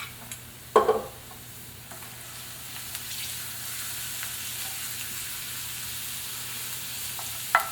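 Garlic and a teaspoon of red pepper flakes fry in a pan as a steady, quiet sizzle, with a louder crackle burst near the start and another at the end.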